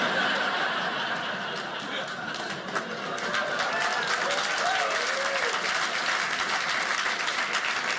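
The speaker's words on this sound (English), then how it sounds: "Clap, sir. Clap. Everybody's doing it." Comedy club audience applauding a stand-up comic, a steady dense wash of clapping mixed with some laughter and crowd noise, with faint voices underneath throughout.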